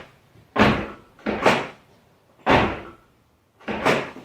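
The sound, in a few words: car door handle and latch operated, Toyota 4Runner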